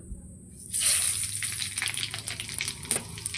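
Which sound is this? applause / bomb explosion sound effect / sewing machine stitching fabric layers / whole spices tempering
whole spices tempering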